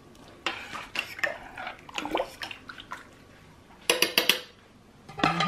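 Homemade vegetable soup stirred in a crockpot, with a utensil clinking and scraping against the pot in scattered bursts and a louder run of clatter near the end, all close and fairly loud.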